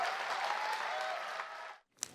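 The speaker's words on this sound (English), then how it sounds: "are we supposed to clap for that?" Dense audience applause fills a studio setting for a couple of seconds, broad and even, then cuts off abruptly into near silence before a short sharp sound.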